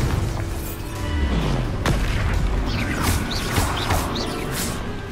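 A Bombarda spell explosion in the video game Hogwarts Legacy, set in a haunted mansion: a loud, dense burst of crashing and rumbling debris with mechanical clatter that stays heavy for the whole few seconds.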